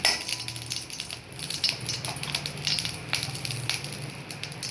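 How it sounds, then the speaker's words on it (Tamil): Grated coconut roasting in a little ghee in a pan, a soft steady sizzle with scattered scraping clicks and light metallic taps from stirring, with a low hum underneath. "கொஞ்சமாக நெய் ஊற்றி தேங்காய் வறுக்கலாம்."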